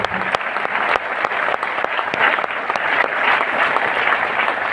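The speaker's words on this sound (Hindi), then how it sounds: "मैं चाहूंगा जोरदार तालियां उनके लिए।" Strong audience applause fills a seminar hall, a dense steady wash of many hands clapping throughout, with no talk over it.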